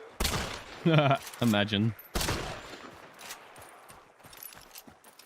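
A single sharp rifle shot rings out in the video game Hunt, followed by a sparser scatter of fainter distant cracks, with a voice speaking briefly over the first part.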